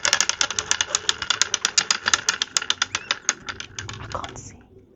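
A prize wheel spun by hand ticks rapidly past its pegs, a bright, even series of close clicks that gradually slow and space out before stopping.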